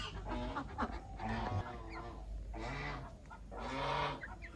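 Farmyard chickens cluck and call in a series of close, fairly soft bursts, with quiet pauses between them and no talking over them.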